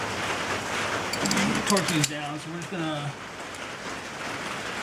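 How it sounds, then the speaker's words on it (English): Rain falls steadily on an outdoor work area where a 1991 Nissan Pathfinder with a bad misfire is being repaired, giving a constant hiss under a voice as he talks. "So of course the rain is back"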